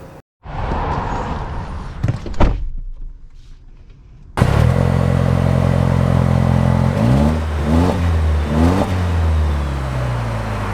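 A 2024 Toyota Land Cruiser First Edition drives off: a thump and a brief shuffle inside the cabin, then the engine hums in and pulls up through several gear changes with a steady, loud, close whir.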